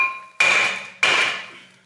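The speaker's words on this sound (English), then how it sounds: "It's a 3-pound hammer. So, we are going to strike this with it." A 3-pound hammer strikes a Mercedes-Benz W203 C-Class front brake rotor twice, each hit a loud, close metallic clang that rings out and slowly fades.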